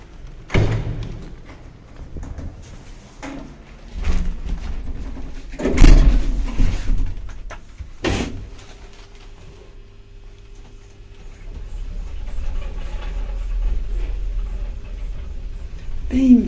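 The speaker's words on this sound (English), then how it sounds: "This lift seems like it's got a few problems." An old tower-block lift without inner doors runs with heavy thumps and clunks, a low mechanical rumble rising and falling, and some faint background voices.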